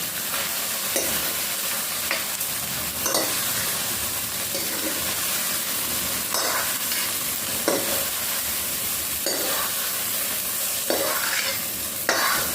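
Vegetables frying in hot oil in a pan for a home-cooked sabzi, a steady sizzle broken by repeated scraping stirs every second or two, close by, with no voices.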